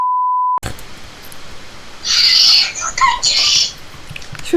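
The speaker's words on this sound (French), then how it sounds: "Bon bah vous aurez eu un bip." A single steady electronic censor beep sounds at the very start, clean and loud, then cuts off into quieter background noise with some bright squawking sounds.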